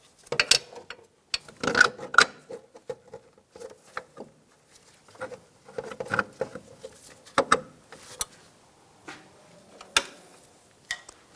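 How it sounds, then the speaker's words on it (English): Nuts on a front strut assembly of a 2004–2009 Toyota Prius are tightened by hand with a ratchet, giving irregular bursts of quick metallic clicking and clinks with quiet gaps, close by. "Take the nuts, get those started. Tighten these down."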